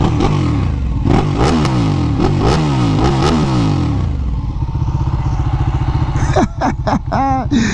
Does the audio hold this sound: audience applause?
no